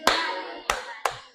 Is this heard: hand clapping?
yes